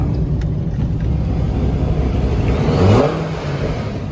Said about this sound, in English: I rev my car at gas stations.